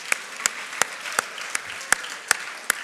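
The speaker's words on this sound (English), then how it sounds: "please, a big round of applause." Sparse audience clapping at an International Women's Day event at IIT Kharagpur: about eight sharp, evenly spaced claps, fairly close, over a quiet background.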